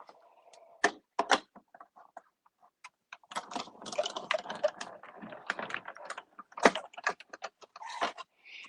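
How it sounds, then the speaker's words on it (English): A cat playing with scattered pieces of paper on a floor indoors, producing faint, irregular rustles, taps and crinkles in scattered bursts with quiet gaps between. "Can you hear my cat playing with pieces of paper that have fallen on the floor?"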